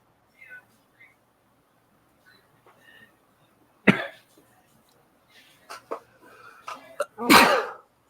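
A single sharp sneeze bursts out during a casual conversation among a few people, followed by a second louder sneeze a few seconds later, both close to the microphone amid quiet murmurs.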